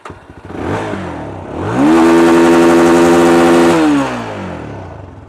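A GPX Demon 250R 250cc sport motorcycle engine revs up hard, holding a loud, rising high-pitched roar for a couple of seconds before dropping back to idle, close to the listener.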